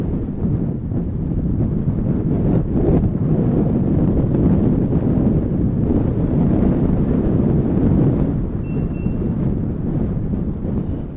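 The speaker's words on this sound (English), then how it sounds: "This wind is an absolute nightmare." Strong, steady wind buffets the microphone on a Lake District fell summit in the Dodds, a continuous low roaring rumble with gusting swells throughout, close and loud, with no voices.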